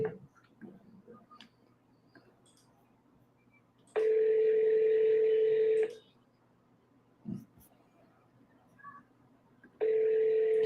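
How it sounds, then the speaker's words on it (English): A telephone ringtone sounds in two steady electronic bursts of about two seconds each, separated by a quiet gap with faint background noise. "You guys hear the ringtone good?"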